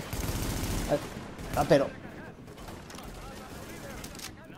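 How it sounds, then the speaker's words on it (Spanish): Rifle gunfire from the video game The Division, a burst of sharp shots near the start with a louder cluster around the middle, mixed with game noise and someone speaking briefly. "Cada vez que apunto, le disparo al personaje."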